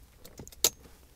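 An ignition key turns to the first position in a vintage BMW E30-era car, giving a few small, close metallic clicks and a jangle of keys. One sharper click lands near the end, with quiet surroundings.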